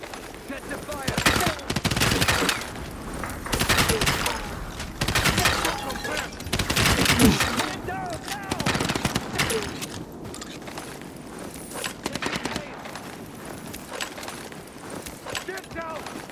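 Gunfire bursts in the zombie game Dying Light: The Beast, loud repeated volleys at a close perspective, with voices talking over the shooting and some footsteps and mechanical clatter.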